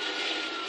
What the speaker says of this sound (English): Oh, there's another chopper, guys.